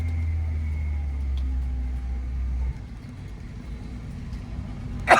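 A car driving in second gear through a narrow lane, its engine a low steady hum that drops off midway, followed by a brief louder burst at the end.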